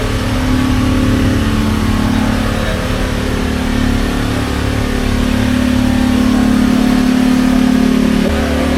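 An Audi R8 sports car engine revs loud and close, a sustained throaty roar holding steady for several seconds with no speech over it.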